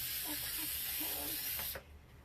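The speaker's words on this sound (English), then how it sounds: "We're going to go ahead and give her some hairspray." Hairspray hisses from a can onto hair in one continuous close spray lasting under two seconds, then cuts off abruptly, with faint voice murmurs underneath.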